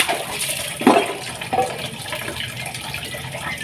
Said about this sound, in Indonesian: Ini sengaja airnya aku alirin kembali.